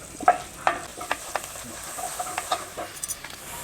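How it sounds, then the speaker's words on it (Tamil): Ginger garlic paste and curry leaves fry in a pan with a quiet sizzle, broken by a series of sharp spoon taps and scrapes against the pan at irregular intervals. "இஞ்சி பூண்டு பேஸ்ட் போட்டுக்கலாம் அப்புறம் வந்து கருவேப்பிலை"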